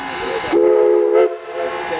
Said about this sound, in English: 491 has now coupled up to a couple of freight cars, which it will use to pull a freight charter